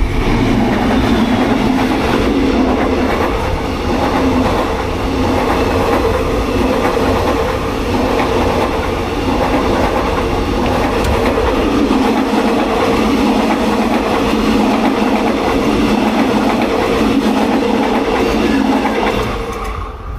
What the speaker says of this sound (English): Stopped so close to Chumphon railway station, it was probably just to let this train pass